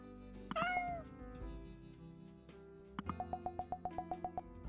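A cat meows loudly once, a drawn-out rising and falling call, followed by quieter electronic tones and a rapid run of short, evenly spaced beeps.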